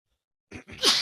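A single sharp sneeze bursting out of silence, close and fairly loud, with a short breathy intake just before it.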